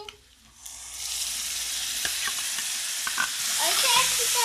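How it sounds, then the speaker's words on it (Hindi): Tomato paste and green chili frying in a pan, building from quiet into a loud, dense, steady sizzle with scattered scraping stirs and small pops, close up. "अब हम इसे अच्छी तरह भूनेंगे।"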